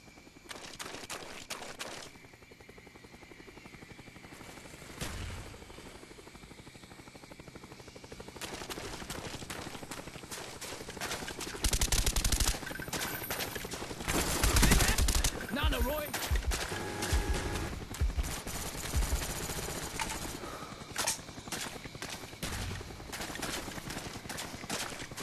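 Bursts of gunfire and machine-gun fusillades crackle across a jungle team deathmatch in a video game while a Cobra attack helicopter whirs overhead, with the shooting loudest in the middle stretch.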